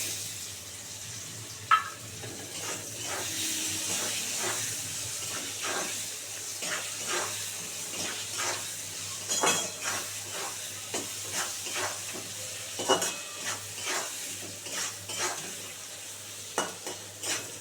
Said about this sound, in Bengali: এবার ওর মধ্যে পেঁয়াজ দিয়ে দিচ্ছি